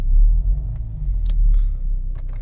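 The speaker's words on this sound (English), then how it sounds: "So let's just start the vehicle now to confirm it's in valet mode." A Range Rover Vogue fitted with a Ghost 2 immobiliser in valet mode starts up, settling into a steady low engine rumble close by, with a few light clicks over the top.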